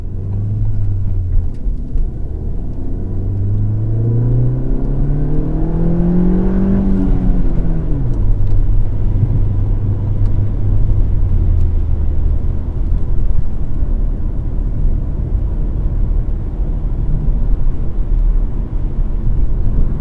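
A Ford Fiesta ST drives a winding mountain road through bushfire-regrowth forest, its engine droning steadily and loud throughout, rising in pitch under acceleration around the middle before settling back to a steady cruise.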